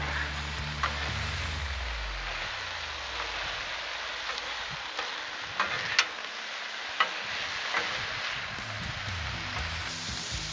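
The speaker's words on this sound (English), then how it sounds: "these vegetables are cooking up just right. And that chicken's starting to get a little sear on it" Chicken and vegetables sizzle steadily on a Blackstone griddle with some burners turned down low, a continuous broad hiss punctuated by occasional sharp pops and crackles, close up with no talking.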